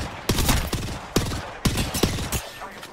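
Bursts of gunfire from the video game Apex Legends, several sharp volleys in quick succession with brief pauses between, loud and close, no talking.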